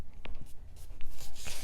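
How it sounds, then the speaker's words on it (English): Tape being pulled from the inside of a handmade autumn-themed mini album, heard as short dry peeling and rustling bursts, close and fairly quiet, with no talking. "I'm just pulling this tape from the inside."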